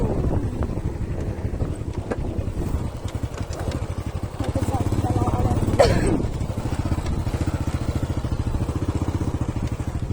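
Motorcycle engine revving hard during a wheelie, a steady buzzing drone throughout with wind noise, rising briefly around the middle, close and loud under scattered voices.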